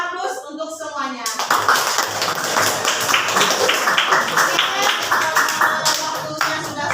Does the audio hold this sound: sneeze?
no